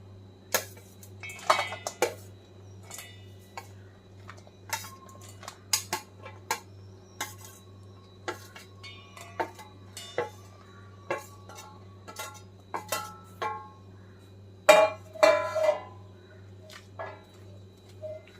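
Dried raw mango pieces for pickle tipped into a bowl, making scattered light clinks and knocks against the dish with pauses between, close and clear over a faint steady hum.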